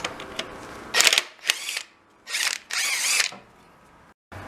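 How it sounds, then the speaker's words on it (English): An impact wrench undoes a bolt on the belt tensioner of a 2002–2005 Honda Civic Si EP3 with a K20A3 engine. It fires in several short, loud hammering bursts separated by gaps, the last burst running longest, close up. "I'm going to use an impact for it"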